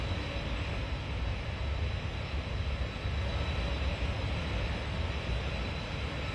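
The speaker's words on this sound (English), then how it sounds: "It's actually quite a quiet train as well," A Chinese CRH2A electric multiple-unit train runs in Train Simulator 2016 as a steady, even, broadband rumble and hiss with no break, fairly quiet and continuous throughout.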